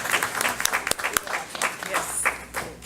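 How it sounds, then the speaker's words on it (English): An audience at a county school board meeting claps for Baldwin school staff, giving a short burst of dense, moderately loud applause with a voice heard briefly over it. "Let's give them another round of applause"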